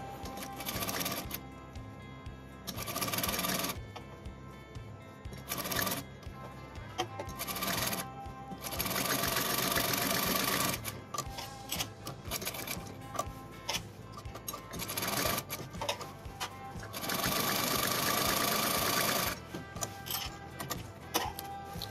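A sewing machine stitches a high-neck collar onto a garment, whirring in repeated close, steady runs of rapid mechanical chatter separated by short pauses.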